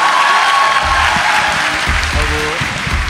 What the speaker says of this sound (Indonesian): Ayo tepuk tangan, tepuk tangan lagi,